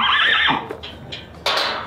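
An extremely old rescued horse with back-leg and other health problems gives a loud, close whinny lasting about half a second, followed by a short, quieter snort and a second strong, bright neigh near the end.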